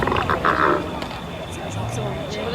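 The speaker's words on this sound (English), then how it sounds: "the growling grass frog is unfortunately not as common" A growling grass frog calls at a creek in Melbourne, a low rough croaking close by, with people talking over it.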